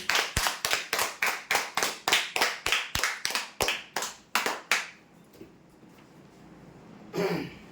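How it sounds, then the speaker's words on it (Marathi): Loud, rhythmic clapping at a prize draw event: about fourteen sharp, evenly spaced claps at a steady pace, fading into quiet room noise near the end. "जोरदार टाळ्या होत्या यासाठी."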